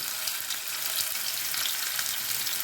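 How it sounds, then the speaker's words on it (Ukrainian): Stuffed mushroom and cheese rolls frying seam-side down in a hot pan, a steady bright crackling sizzle with no voices. "буду викладати свої рулетики, щоб з усіх боків гарненько підсмажилися"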